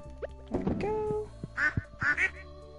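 Ducks quack in the farm game Stardew Valley, with a few short nasal calls grouped in two bursts near the end, sitting over quiet game background sounds.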